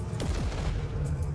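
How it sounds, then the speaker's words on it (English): A default rifle fires in the video game Warhammer 40,000: Martyr, its shots setting off electrical area explosions, heard as a dense, continuous barrage of loud gunfire and booms. "That explains why this rifle is just so good. It's the default rifle that I got in the beginning."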